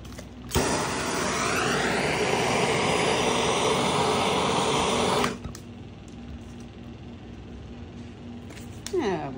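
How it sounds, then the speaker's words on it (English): A heat gun blows on resin at its low speed setting, a steady loud whooshing roar that cuts in abruptly, runs about five seconds, then shuts off to quieter background with a few clicks. "Now we're just putting our heat gun again. On the lower speed"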